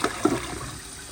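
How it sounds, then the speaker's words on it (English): A 2008 Jacuzzi Espree toilet flushes close by, a short gurgling rush of water that tapers into a trickle, with no speech. "here's an actual flush"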